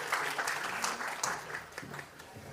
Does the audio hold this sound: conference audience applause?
yes